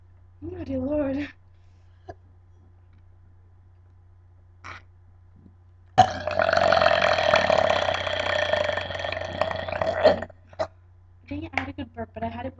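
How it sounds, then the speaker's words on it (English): A long, loud, croaking burp during a burping contest between two girls, lasting several seconds, comes after a short vocal outburst and a pause and is followed by brief talking. "Dang it, I had a good burp, but I had it while you were burping"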